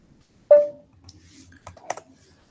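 A handful of quick keystrokes on a computer keyboard entering a short terminal command, close and fairly crisp, with a sharp tap at the start and a brief cluster of clicks near the end.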